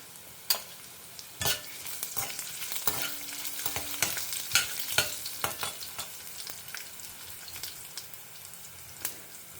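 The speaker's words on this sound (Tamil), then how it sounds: "தனியா வத்த மிளகாயை வறுத்துக்கிறோம்." Dried red chillies roast in hot oil in a pan with a bright, crackling sizzle and scattered sharp pops, stirred now and then, close and alone without any voice.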